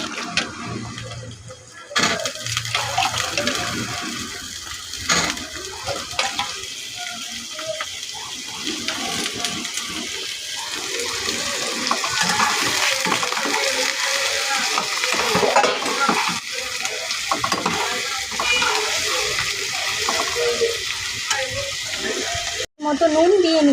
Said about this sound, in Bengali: এবার আলুগুলোকেও এর মধ্যে দিয়ে দিচ্ছি।